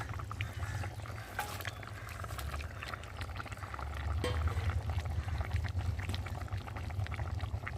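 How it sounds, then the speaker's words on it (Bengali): Fried pabda fish goes into a simmering potato and eggplant curry, giving a steady bubbling, sizzling hiss that swells slightly midway and stays close and continuous. "এখন আমি ভেজে রাখা মাছগুলোকে দিয়ে একটু ফুটিয়ে নেব"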